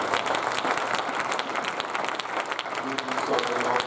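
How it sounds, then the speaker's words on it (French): A church congregation applauding and cheering during a service, a steady dense wash of clapping from a large crowd, loud and sustained, with voices mixed in. "Est-ce qu'on peut acclamer le Seigneur encore?"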